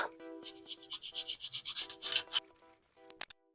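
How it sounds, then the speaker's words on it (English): Emery cloth rubs rust off a car's wheel hub in quick, even back-and-forth strokes, close and scratchy, slowing and ending with a sharp knock. "I'll just wipe them off with a emery stick here, emery cloth"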